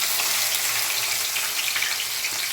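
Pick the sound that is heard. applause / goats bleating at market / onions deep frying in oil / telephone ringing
onions deep frying in oil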